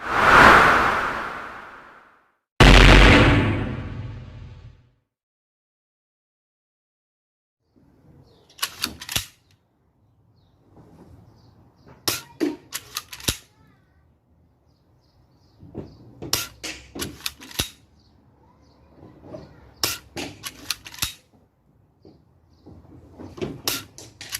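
A Daisy Model 25 BB gun is fired at targets: two loud, long bursts at the start, then after a pause a run of sharp clicks and clacks in small clusters as it is cocked and shot repeatedly, nearby.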